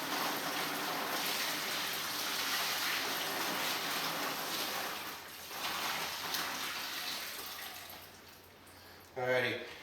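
Curing liquid poured over a ham with peppercorns, a steady broadband wash of liquid running for most of the span, easing off near the end before a brief louder splash.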